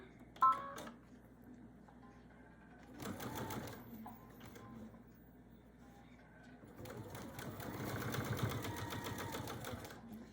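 A sewing machine stitches a quilt binding in two bursts of steady, rapid mechanical whirring. The second run is longer and louder, with quiet handling and fabric sounds in the pauses.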